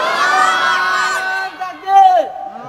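A crowd at a religious sermon gathering shouts a loud takbir chant, massed voices rising into a sustained roar with a second swell of shouting near the end, close and forceful.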